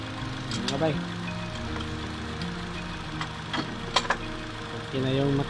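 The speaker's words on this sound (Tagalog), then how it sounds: "Okay na yung makina na top overhaul natin." A Ford Figo or EcoSport engine idles steadily after a top overhaul, a low mid-range hum running throughout with a few brief clicks and bumps, while a voice talks over it.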